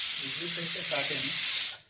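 A pressure cooker whistle releases steam in a loud, steady hiss held for nearly two seconds before cutting off abruptly, with a voice talking faintly beneath it.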